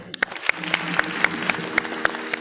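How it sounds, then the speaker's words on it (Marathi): An audience at a devotional gathering claps in a brisk, even rhythm, with crisp regular beats over a faint sustained tonal drone. "त्यांच्यासाठी टाळ्या वाजव"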